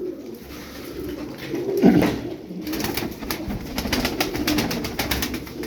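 Iraqi feather-footed pigeons coo softly over a steady background hum, with a louder burst of cooing around the middle and faint rustling throughout.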